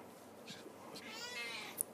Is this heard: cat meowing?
yes